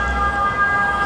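Emergency vehicle siren on a street in Milan, a loud sustained wailing tone over low city rumble, with no talking.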